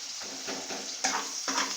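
Chopped onion frying in a pan for an echor chingri dish while being stirred, with a steady close sizzle and a few scraping stirs of the spoon against the pan.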